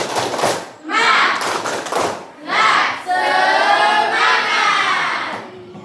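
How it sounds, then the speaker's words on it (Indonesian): Children in a classroom do a rhythmic spirit clap, with sharp claps and thumps mixed into loud, chanting young voices in short bursts. "sekarang kita tepuk semangat dulu lagi"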